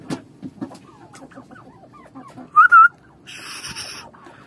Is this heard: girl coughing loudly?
no